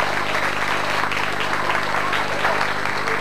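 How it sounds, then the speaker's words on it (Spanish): Strong audience applause for a contestant at a school poetry contest, loud continuous clapping from a crowd with a faint steady hum beneath. "Fuerte el aplauso para Ana Lisa Fernández."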